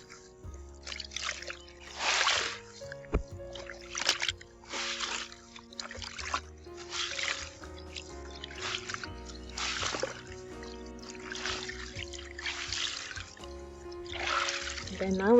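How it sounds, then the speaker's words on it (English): Water squeezed from a hand-washed bed sheet falls in repeated splashy bursts and trickles, a rhythmic series of wet gushes close by, fairly quiet, no talking. "we'll start squeezing the water out"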